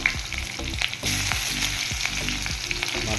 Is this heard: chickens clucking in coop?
no